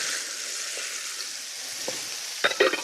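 Onions frying in a hot pan with pork tenderloin for balsamic onions, a steady close sizzle with a few scraping stirs near the end, no talk.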